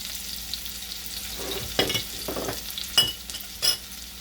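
Chopped onion and green chilies frying in a pan for mutter paneer, giving a low steady sizzle broken by a few louder stirring scrapes and clinks of a utensil against the metal.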